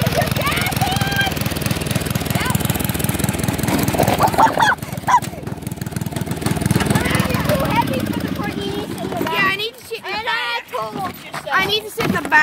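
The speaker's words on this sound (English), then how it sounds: "So this is the tractor." A tractor engine runs with a rough, rumbling drone as it is driven up a hill, with people talking loudly over it throughout.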